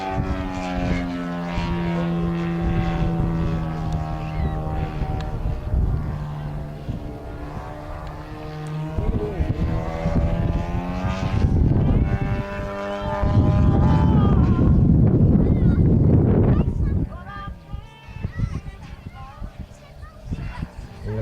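Propeller-driven aerobatic model aircraft fly at an air show in Montluçon-Guéret, their engines droning and changing pitch as they climb and dive, with a commentator talking over them.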